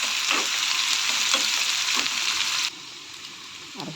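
Onion, green chili and peanuts frying in hot oil for lemon rice, a loud continuous sizzle with stirring scrapes, the hiss dropping sharply near the end as the pan quiets.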